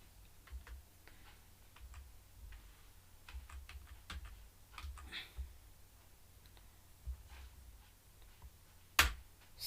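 Scattered clicking keystrokes on a computer keyboard while MS-DOS commands are entered, irregular taps fairly quiet and close, with one sharper click near the end and no speech.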